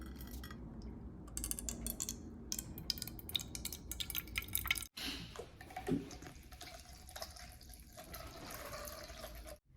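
Oil pours into a bowl set on a kitchen scale in a thin, steady trickling stream, close and soft, with a brief break midway and no talk over it.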